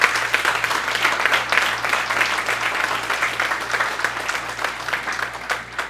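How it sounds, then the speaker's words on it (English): A school audience applauds a Standard 5 class at a government primary school, dense steady clapping from many hands throughout, moderately distant, with a low electrical hum beneath. "I would like you to give them a round of applause."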